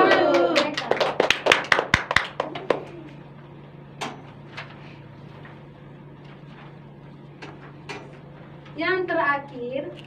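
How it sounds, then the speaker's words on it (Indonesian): A short burst of children clapping hands together in a microteaching classroom for about three seconds, followed by quiet room noise, a few isolated taps and brief voices near the end. "Tepuk tangan untuk teman Ayu dan teman Esti."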